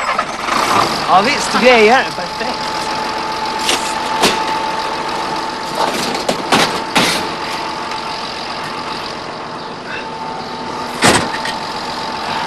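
A car engine turns over and settles into a steady idle beneath conversation, with brief louder revs and clicks scattered through; people speak throughout.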